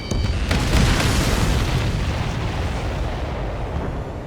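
Tanker explosions in Ace Combat 7: a loud, dense boom that rolls into sustained rumbling and crackle, holding steady for about four seconds with no voices.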